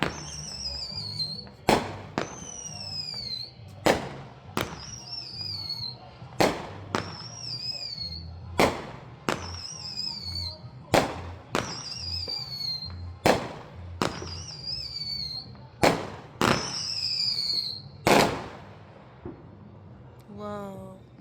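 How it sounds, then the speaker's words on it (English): New Year fireworks burst in a steady series of about a dozen loud, sharp bangs, each followed by whistling, crackling trails, while voices murmur faintly underneath. "What was the last time we lit up our own fireworks?"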